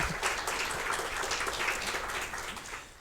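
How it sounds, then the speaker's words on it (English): Audience applause for a guest speaker at a science café event on circular literacy. It is a steady, dense clapping from a sizable crowd that holds for the whole span and eases off slightly at the end. "Big applause for Vladimír"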